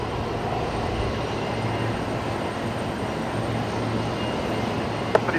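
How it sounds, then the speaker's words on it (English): QantasLink Embraer jet departing Brisbane Airport, a steady distant roar of engines that stays even and unbroken throughout, with no talk over it. "we got this Qantas Link Embraer heading out"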